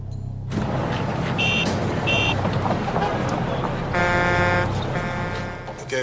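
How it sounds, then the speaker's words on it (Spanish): Traffic noise played back from a recording: a dense, steady roar of passing vehicles with intermittent horn-like buzzing tones and one longer honk near the end, loud and continuous. "Ahora el ruido de tráfico para compararlo."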